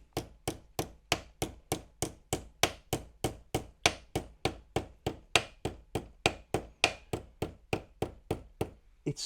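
Light hammer taps bend the metal rear capping of a 1/6 scale Armortek Series 1 Land Rover model, about three crisp knocks a second in a steady, even rhythm, close and alone.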